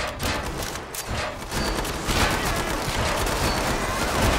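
Rapid gunfire in the video game Killing Floor 2, a dense, loud burst of continuous automatic shots and impacts that runs unbroken through the whole stretch.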